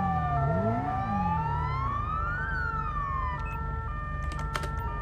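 Ambulance siren wailing in GTA 5 traffic, a loud continuous rising and falling electronic tone sweeping steadily across the whole stretch, close and unbroken, with engine rumble beneath and brief clicks near the end.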